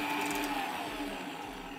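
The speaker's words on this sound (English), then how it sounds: "we're gonna mix this again until it's well combined" An electric mixer beats cupcake batter with ground cardamom, vanilla and oil, giving a steady, fairly loud whirring hum that runs unbroken throughout.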